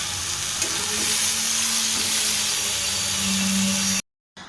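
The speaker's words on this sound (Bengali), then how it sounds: "আর এই ট্যাংরা মাছ এত ফাটে না তেলে দিলে, বাপরে বাপ।" Tengra fish frying in hot oil in a home kitchen, a steady loud sizzle throughout with faint stirring clicks and a few sharp pops, cutting off near the end.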